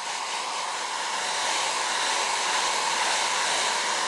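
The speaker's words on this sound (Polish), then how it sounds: "Suszymy suszarką na ciepło, nie za blisko, żeby nie powstały pęcherze." Hair dryer on its warm setting blowing over a painted mask to dry the paint, a steady, close whirring hiss that holds level throughout with no talking.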